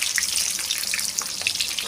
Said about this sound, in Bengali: ওটার জন্য আলু ভাজা চলছে।